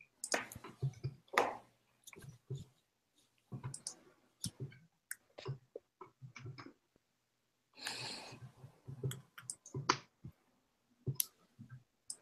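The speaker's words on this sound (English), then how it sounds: "I'm still typing into my calculator." Fingers tap out numbers on a calculator keypad during a statistics calculation, giving quiet scattered bursts of light plastic clicks in uneven clusters with pauses between them, close by and with no talking.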